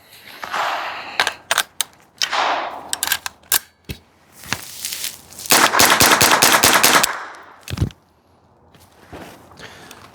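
An AR rifle fitted with a CMMG .22LR conversion fires Federal ammunition: sharp single shots, then a rapid string of cracks, ending in a stop with mechanical clicks and handling noise.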